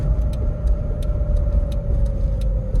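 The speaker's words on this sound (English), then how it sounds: "Let it sit here and idle for a minute" A 1995 Toyota Hilux Surf engine idles close by, a steady low rumble with light regular ticking on top, running alone without talk.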